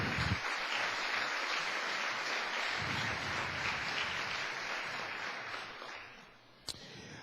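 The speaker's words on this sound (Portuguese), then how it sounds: "Quantos podem dar uma salva de palmas para o Senhor?" A church congregation claps together in sustained applause, a dense, even crackle of many hands that holds for several seconds, fades slightly toward the end and finishes with a single sharp clap.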